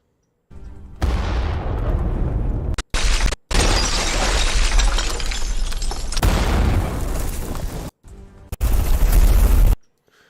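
Heavy wall explosion effect with a crashing, shattering burst of rubble, loud and dense, sustained across several seconds in separate blasts with brief gaps between them, no talking.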